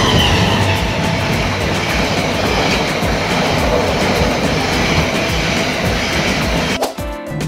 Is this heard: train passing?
yes